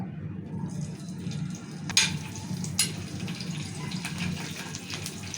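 Green chillies frying in oil in a kadai, a steady low sizzle and bubble running throughout, with a couple of sharp clinks or splashes as pieces drop in.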